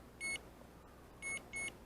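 Three short, high electronic beeps from an Eachine EX4 drone on return home: one, a pause, then two more close together, clear over a quiet background hiss.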